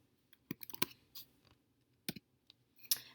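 Several sharp key clicks on a computer keyboard, spaced irregularly with short gaps, fairly faint and close, entering a spreadsheet cell reference during a statistics task.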